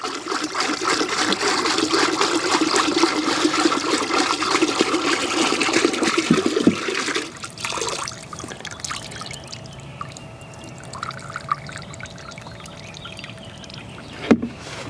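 Deck oil poured from a container into a bucket, a steady loud glugging pour for about seven seconds, then it tapers off into quieter trickles and small handling knocks with one sharp clunk near the end.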